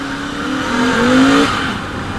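Royal Enfield Continental GT650 parallel-twin motorcycle accelerating, its close engine note climbing steadily in pitch for a couple of seconds before easing off, with no voices over it.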